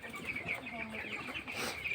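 Broiler chickens in a poultry shed clucking and chirping continuously at moderate distance, a busy overlapping flock murmur with no voices.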